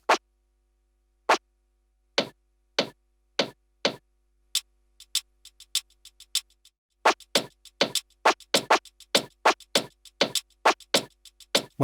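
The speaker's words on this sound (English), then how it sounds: "I've added some sound effects of some switches, as well as one of the characters who's hitting and blowing into his headset microphone to test it." Clicks of switches followed by a character tapping and blowing into a headset microphone to test it, heard as sharp, dry ticks spaced apart at first, then a quicker, denser run of taps and short bursts near the end, with no voices.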